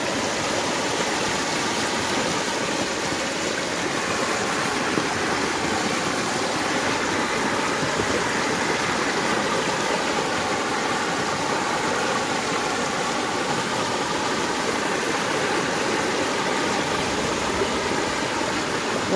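Floodwater rushing across a road during a severe flood in Naria, Shariatpur, Bangladesh, a loud, unbroken roaring wash of water, close and constant for the whole stretch with no voices.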